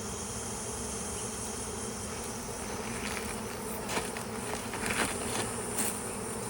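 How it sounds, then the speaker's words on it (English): A honeybee swarm buzzes thickly and close by, a constant loud hum with a few individual bees zipping nearer toward the end. "There's a bee in my boot."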